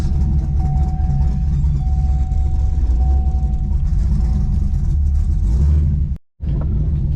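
A car fitted with a new McLeod RXT clutch drives on a test run, its engine and road noise a steady loud rumble with a faint whine, cutting out briefly near the end.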